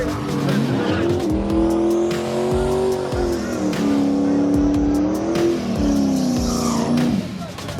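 Street drag race at a Chicago show-and-go with big-rim cars: loud, close engines rev hard with tire squeal and skidding, rising and falling pitch across several passes, voices shouting underneath.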